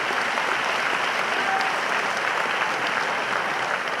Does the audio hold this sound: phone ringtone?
no